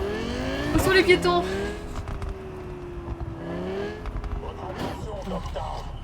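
A car in the video game Cyberpunk 2077 drives with a sustained engine drone that shifts pitch, accompanied by a few sharp bursts. Someone talks loudly over the engine.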